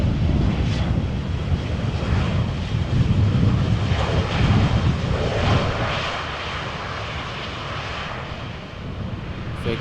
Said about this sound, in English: So another Vueling A320 arriving from Barcelona.